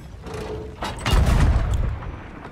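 A single loud gunshot in a video game, a heavy booming blast with a short lingering tail, preceded by fainter background noise.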